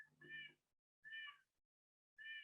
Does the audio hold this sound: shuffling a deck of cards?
no